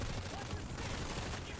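Rapid automatic gunfire from the Planetside 2 video game, a dense continuous burst of shots filling the whole moment, loud and close, with a player's voice mixed in.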